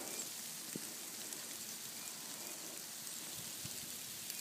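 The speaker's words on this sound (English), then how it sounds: "little pieces of hail that are bouncing off of me" Small hail pellets and large snowflakes falling outdoors in Virginia make a steady fine patter and hiss, with a few faint ticks where pieces bounce off a person and nearby surfaces.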